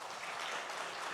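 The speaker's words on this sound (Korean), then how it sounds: "박수 한번 쳐야지." Congregation clapping in a church during a Sunday worship service: a soft, steady wash of applause lasting about a second, fairly distant with no talking over it.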